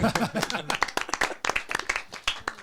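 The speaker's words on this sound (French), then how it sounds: "Ça s'applaudit." A small group breaks into quick, lively hand clapping, with close, distinct claps mingled with people talking over them, at a modest volume.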